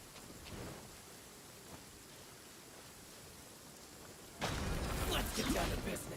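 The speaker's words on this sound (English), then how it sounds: "It's raining. Fetch an umbrella for me" Rain falls steadily in the video game Valorant as a soft, even hiss that swells into a louder downpour near the end, with no speech.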